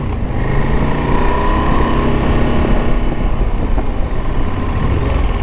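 A motorcycle engine pulling steadily in second gear up to about 30 mph, a continuous loud drone with wind rush, with no clear rise in pitch.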